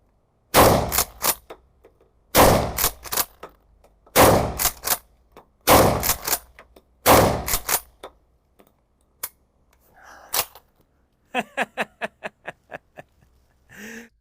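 A Hatsan Escort pump-action shotgun fired five times in a steady rhythm. Each loud, sharp blast is followed by the clack of the pump, and a run of quick metallic clicks comes at the end.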